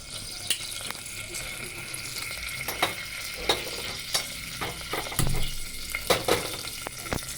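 Spices tempering in hot coconut oil for a Telugu dal and bean stir-fry give a steady close sizzle and crackle, broken by sharp stirring clicks and scrapes throughout.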